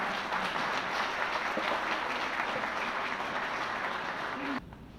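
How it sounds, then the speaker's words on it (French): Dense, steady audience applause fills a hall at a Haitian celebration of the Japanese Emperor's birthday, honouring the ministers present; the clapping holds loud and even, then cuts off abruptly near the end. "d'applaudir la performance de nos ministres."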